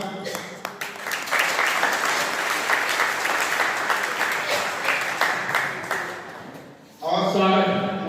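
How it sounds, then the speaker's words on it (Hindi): An audience at a poetry gathering marking a jayanti applauds with dense, lively clapping for several seconds, fading briefly before a speaker's voice comes in at the end. "आप सभी से आग्रह करता हूँ अपनी तालियों से अभिनंदन करें"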